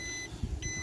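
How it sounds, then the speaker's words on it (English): A boat engine's temperature alarm beeps in short, steady high-pitched tones, fairly faint, with a brief gap in the middle, over low engine rumble and no talk. "I put it back on, and the alarm was going."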